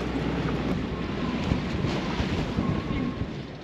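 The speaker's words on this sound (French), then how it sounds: "il y a pas mal de vent" Strong wind roars across a sailboat at sea near an atoll pass. A steady, loud, broadband rush buffets the microphone with a head-on gust, and the swell washes underneath it without a break.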